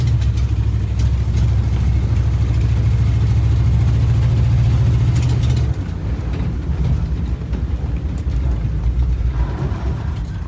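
A 1973 International crew cab truck engine runs loud and close, a rough steady rumble that shifts abruptly partway through to a different, slightly lighter running tone, with no voices over it.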